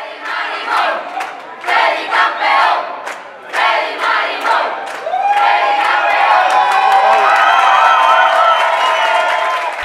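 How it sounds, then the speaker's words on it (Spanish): A crowd at an airport arrival in Cartagena, Colombia welcomes home a surfing world champion with loud cheering, shouts and bursts of applause, the roar swelling into sustained clapping and whooping close by. "z, el hijo del barrio de Villas de Aranjuez, recibido en medio de ovaciones y aplausos felicitando al campeón."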